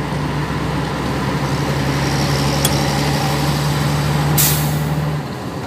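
A vehicle engine drones steadily and close throughout, with a short sharp hiss like an air brake near the end before the sound cuts off.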